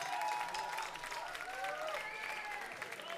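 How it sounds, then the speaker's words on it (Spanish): An audience at a live metal and rock concert in Bilbao claps and cheers steadily for the bassist, with whistles and shouts rising over the applause, heard from a little distance. "Un aplauso para el bajista, que nadie se lo da nunca."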